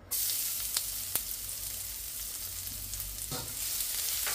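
Garlic sautéing in chicken oil with a loud, steady sizzle close by, broken by a few quick stirring scrapes.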